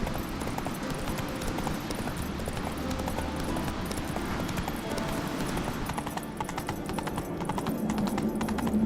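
Steady rhythmic clip-clop of horse hooves at a walking pace in the video game The Witcher 3: Wild Hunt, continuous and fairly close, with faint background sounds.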